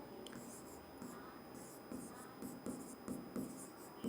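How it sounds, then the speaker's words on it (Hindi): Pen scratching across paper as an answer is written out, a faint, close, steady scribbling with short strokes and pauses and a soft whisper-like hiss throughout. "तो हम लिखेंगे"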